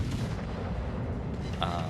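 Battleship cannons firing in World of Warships, a continuous low booming rumble of heavy gunfire with a brief sharper blast near the end.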